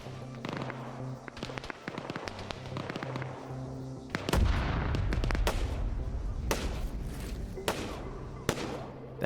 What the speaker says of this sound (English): they did a breaching charge because they're trying to maneuver around